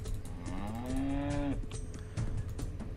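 Cattle lowing in the strategy game America: No Peace Beyond the Line, a single clear drawn-out moo with a rising then steady pitch, followed by faint game background sounds, no talking.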